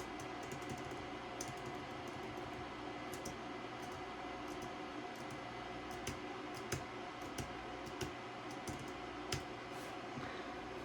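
Keys click and tap on a computer keyboard beside a 2009 iMac, a fairly close, irregular run of clicks over a constant fan-like hiss.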